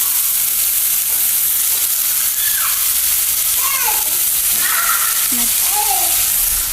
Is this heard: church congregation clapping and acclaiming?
no